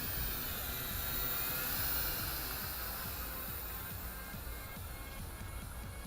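A JJRC H8C quadcopter with a 7.4 volt battery hovers steadily outdoors in a light wind, its steady broadband whir and hiss continuous and fairly loud throughout, with faint wind noise beneath.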